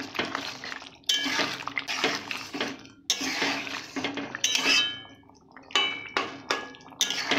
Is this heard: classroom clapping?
no